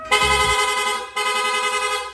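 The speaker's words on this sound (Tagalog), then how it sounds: "Rapid horn." A Honda Click 125 v3 motorcycle's loud rapid horn blares in two long, steady electronic blasts, close and piercing, with a short gap between them and no voices.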